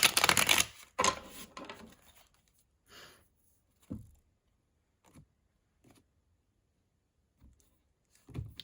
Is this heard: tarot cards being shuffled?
yes